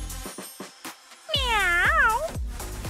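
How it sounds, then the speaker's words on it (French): An angry cat gives a loud, drawn-out wavering meow that bends up and down in pitch, preceded by several short sharp knocks and followed by a few more thuds. "Ce chat est en colère!"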